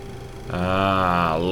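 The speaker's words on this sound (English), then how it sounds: "we're going to watch the engine spool up" The right engine of a Boeing 737-300 in X-Plane 11 starts and spools up, a rising whine that swells from near silence into a loud, steady tonal roar.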